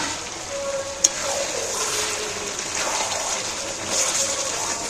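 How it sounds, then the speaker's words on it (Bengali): Fried potatoes are stirred and sautéed together with chicken in a pan, giving a continuous close sizzle with one sharp clink of the utensil and gentle scraping throughout. "আলুগুলো মাংসের সাথে নাড়াচাড়া করে কষিয়ে নিই"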